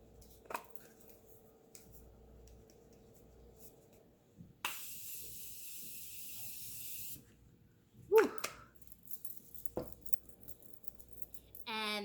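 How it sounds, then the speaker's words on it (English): Morphe Continuous Setting Mist sprays in one long, even hiss lasting a couple of seconds, preceded and followed by faint handling clicks and taps in a quiet room. "I will be setting my makeup look today with the Morphe Continuous Setting Mist"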